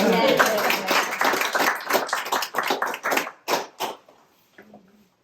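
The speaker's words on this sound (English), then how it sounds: "I think an applause." Wedding guests clap during an Australian-Indonesian wedding ceremony, a lively burst of close, rhythmic claps that thins into scattered individual claps before fading to quiet, with voices mixed in.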